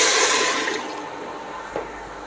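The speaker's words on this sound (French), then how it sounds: "Donc là on ajoute l'eau à hauteur," Steady rushing pour of water into a pot of lentils for traditional lentil soup, a loud splashing stream that gradually softens, heard alone without talk.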